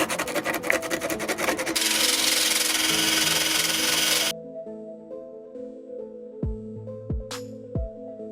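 Cleaning around a hole in metal before fitting a rivet nut during maintenance on a vehicle: a steady, close rasping rub for about four seconds, then quiet with a few light taps and clicks.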